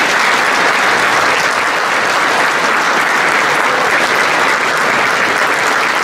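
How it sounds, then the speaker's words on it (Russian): At a concert marking 35 years since the withdrawal of troops from Afghanistan, a hall audience gives the organizers loud, dense applause that holds steady throughout. "И давайте проводим наших организаторов аплодисментами."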